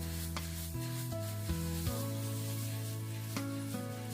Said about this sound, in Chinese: 快速炒匀，让河粉上色。